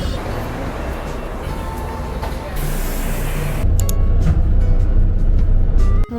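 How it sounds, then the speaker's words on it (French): A city bus at a bus stop, a loud steady engine rumble and traffic roar that grows heavier partway through, close and continuous. "Donc là j'attends le bus."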